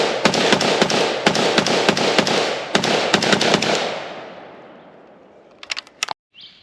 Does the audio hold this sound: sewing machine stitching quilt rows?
no